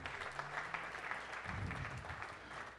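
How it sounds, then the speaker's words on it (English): Audience applause at the 2017 WAAC awards ceremony, a faint, distant spread of clapping hands that carries steadily through the short stretch without any voices on top. "how about a round of applause?"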